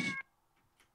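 A single brief cat meow sounds close and clear at the start, then cuts off into near silence with faint traces after.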